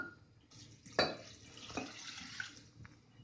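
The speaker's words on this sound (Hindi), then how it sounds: "अब इसमें डालेंगे पानी," Water poured into a pot of dal being cooked, a steady splashing rush with a louder burst partway through, no voices.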